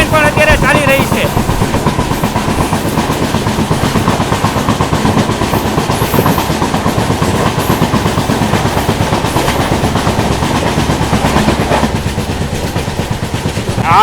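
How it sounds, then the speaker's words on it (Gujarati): Saurashtra Mail passenger train running on newly doubled track past Padadhari, a loud steady rumble with rhythmic wheel clatter throughout, carriages rolling continuously. "ડબલ ટ્રેક ઉપર ટ્રેન પણ અત્યારે ચાલી રહી છે"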